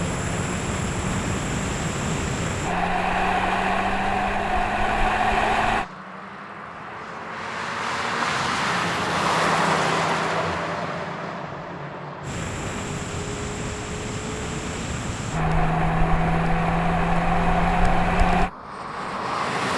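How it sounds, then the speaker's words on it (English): Mark 5 Volkswagen Golf GTI accelerating hard in a drag race, engine note rising through gears in several long pulls with abrupt shifts, loud and steady with a broad roaring wash. "That Mark 5 is absolutely storming, isn't it?"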